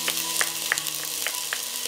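Garlic goes into hot oil with onion in a pot and sizzles steadily and close, broken by several short clicks of a utensil against the pot and a faint ringing tone underneath.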